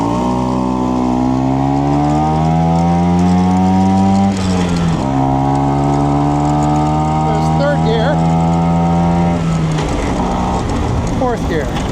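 A 1968 Vespa 150 Sprint scooter engine while riding, a loud, close buzzing note that climbs steadily in pitch, drops at two gear changes and climbs again through the gears.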